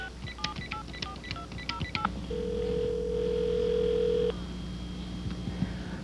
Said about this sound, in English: I'll just phone him up by getting his number from the business card.